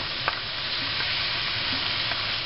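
Kung Pao chicken and sauce thickened with cornstarch are stirred in a wok, giving a continuous hiss of frying under occasional scraping clicks from the utensil, all close and fairly quiet.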